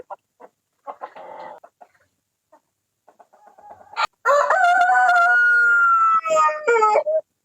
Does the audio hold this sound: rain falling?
no